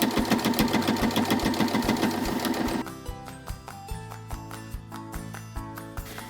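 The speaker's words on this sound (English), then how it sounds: "We're going to put the bag over the sewing machine." A sewing machine stitching all the way around a tote bag, a fast rhythmic mechanical whir that drops to a quieter, slower run partway through, close by with no talk.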